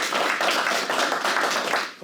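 A council meeting crowd in a Quebec municipal hall applauds a young hockey player who won a silver medal, with dense, steady clapping that carries on for about two seconds before trailing off.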